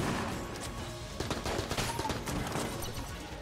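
Rapid automatic bursts from a Tommy gun in the dungeon-crawler game Enter the Gungeon, a dense, loud stream of shots with crashing impacts running steadily throughout.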